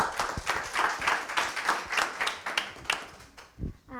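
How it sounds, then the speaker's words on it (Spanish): An audience applauds a speaker at a talk on Hollywood narrative structure: steady clapping from a crowd lasting about four seconds. A voice is partly heard underneath. "un aplauso para ella"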